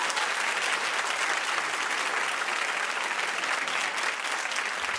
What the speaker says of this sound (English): Clap if you think she looks terrific.